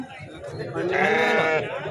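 At a weekly sheep and goat market in Mudigubba, a lamb gives a single wavering bleat, close and fairly loud, rising out of background chatter.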